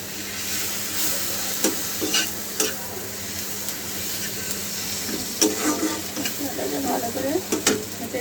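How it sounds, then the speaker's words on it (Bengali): Spice paste with chili powder being stir-fried for a fish curry, a steady sizzle in hot oil with repeated scraping strokes of a spoon in the pan, close and continuous throughout. "দিয়ে মশলাটাকে ভালো করে ঘেটে ঘেটে কষবো।"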